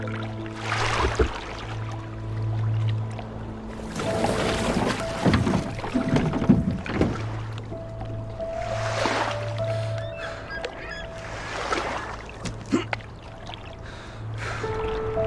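Oars dip and pull through water as a rowboat moves along in Draugen, with a steady low hum underneath and occasional splashy strokes, fairly close and uninterrupted by talk.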